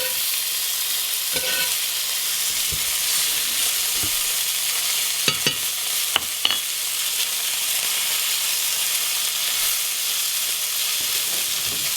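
Venison tenderloin sizzles steadily in a pan as butter with roasted garlic and rosemary is spooned over it, a constant broad hiss with a few sharp spitting pops and clinks of the spoon.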